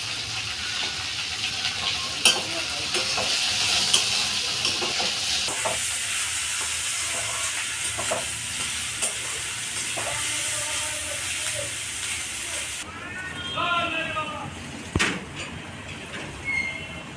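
Chopped onions hit hot oil tempered with cumin seeds and bay leaf for a pumpkin curry, giving a steady broad sizzle that swells partway through, with scattered stirring clicks and clatter and no talking.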